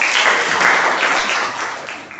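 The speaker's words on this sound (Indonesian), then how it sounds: "tepuk tangan untuk semuanya" Classroom audience clapping together, a dense sustained wash of applause at close range that holds steady and then tapers slightly toward the end, with no voices over it.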